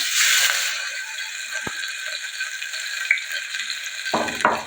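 Garlic paste being fried and stirred in a pan, a steady close sizzle with a spoon scraping and clinking against the metal near the end.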